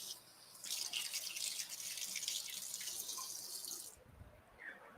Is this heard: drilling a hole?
no